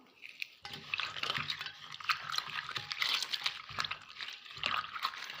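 Freshly washed herbal leaves are crushed and squeezed by hand in water to make a thali hair wash, giving close, wet squelching and sloshing sounds in irregular bursts, fairly quiet, with no talking.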